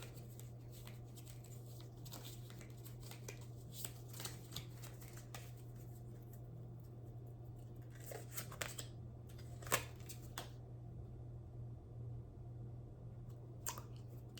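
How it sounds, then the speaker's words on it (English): Cards are shuffled several times at close range, quiet riffling bursts and soft slaps spread over a low steady hum. "Shuffle 3 times."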